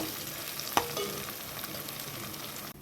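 Prawns frying with curry leaves in a pan for an old-style gongura prawn curry, giving a steady close sizzle with a sharp scrape or clink near the start and no voices.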